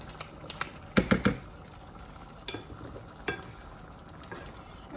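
A spoon stirring bubbling pumpkin risotto in a pot, a few clattering scrapes and soft splashy bursts over a low simmering hiss.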